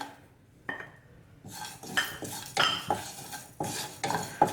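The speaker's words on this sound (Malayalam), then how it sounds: "ഇനി ഇത് നമുക്ക് നന്നായിട്ടൊന്ന് റോസ്റ്റ് ചെയ്തെടുക്കാം" Whole fennel seeds, cloves, cinnamon, star anise and cardamom are stirred in a hot kadai, with a series of sharp metallic scrapes and clinks of a spoon against the pan. Each stroke is close and distinct, over a faint background.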